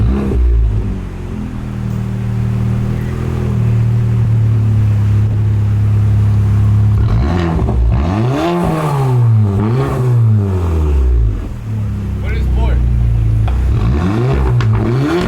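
A brand-new 2022 Porsche Macan with its muffler deleted idles with a low, steady drone, then revs repeatedly in rising and falling sweeps, loud and close, before settling back to idle.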